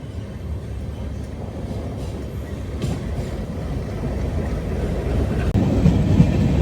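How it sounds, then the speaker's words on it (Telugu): A shunting locomotive hauls a rake of passenger coaches at a station, giving a steady low rumble of wheels and rails with a sharp clunk about two-thirds through. "షంటింగ్ లోకోమోటివ్ తీసుకెళ్తుంది ఈ కోచ్ల్ని"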